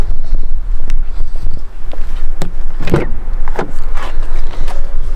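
An old project car's engine warming up after being started, a low continuous rumble overlaid with gusts of wind buffeting the microphone and a few sharp clunks, loud and close.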